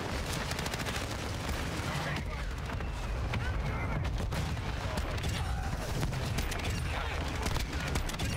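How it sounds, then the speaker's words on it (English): Dense, continuous gunfire on the small Shipment map in Call of Duty, with many overlapping shots rattling throughout and talk over the top. "this shotgun is quite literally the worst shotgun I've ever played with in a Call of Duty"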